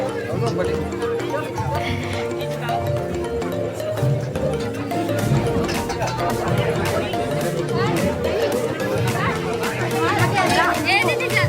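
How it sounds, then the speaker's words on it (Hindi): Crowded reception party with a dense, steady babble of many voices close around, overlapping chatter filling the whole stretch, with someone talking nearby over the hubbub. "तो दोस्तों बहुत ज़्यादा भीड़ है"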